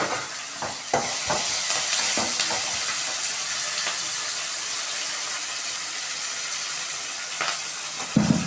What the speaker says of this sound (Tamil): இஞ்சியும் பூண்டையும் நல்லா அரைச்ச பேஸ்ட்டும் போட்டாச்சு. இப்போ கருவேப்பிலாம் போடுறோம்.